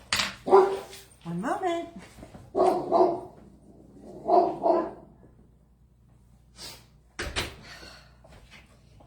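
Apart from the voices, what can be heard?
dog barking at neighbor dogs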